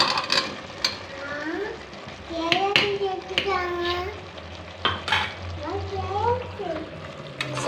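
Vegetables for a vegetable biryani stirred into a cooker pot: soft scraping and stirring noises with faint sizzling, continuing under a voice that talks over most of the clip.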